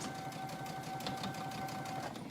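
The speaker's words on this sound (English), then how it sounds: "I'm sewing sort of in the middle of that serger seam allowance" A sewing machine stitches lining around a neckline with a steady, rapid, close-up whirring rhythm that runs throughout without any talking.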